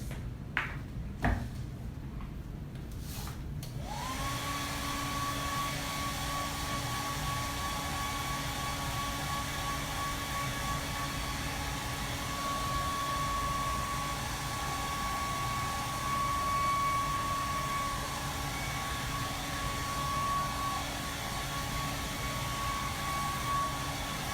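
A few clicks and bumps, then a hair dryer switches on and blows onto a freshly painted canvas with a steady whining hum that holds for about twenty seconds.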